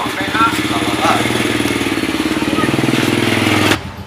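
A motorcycle engine idles nearby with a steady, even chugging throb that cuts off abruptly near the end, with voices briefly heard over it.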